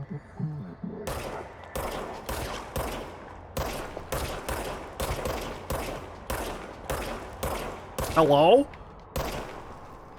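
Gunfire from the service weapon in the video game Control, a series of sharp, evenly spaced shots, roughly a dozen, loud and close, with a brief spoken word partway through.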